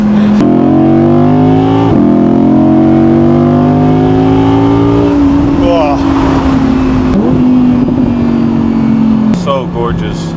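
A naturally aspirated German supercar engine revs up and holds a deep, rumbling drone with rising harmonics, a gear change near two seconds, then eases off, loud and close with a second blip near the end.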